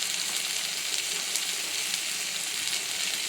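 Spices with cumin powder and coriander powder sauté in a pan, giving a steady, even sizzle that hisses close by with no speech.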